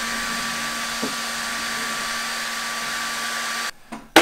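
A brushless motor in a robotic actuator joint runs steadily at a set speed on a test bench, a constant whining hum with a steady tone, which cuts out near the end and is followed by a brief clatter.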